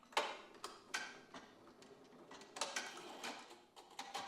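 Embroidery machine stitching a quilted top onto its backing, a fast light ticking and tapping with brief louder needle strikes, steady and close, no voices.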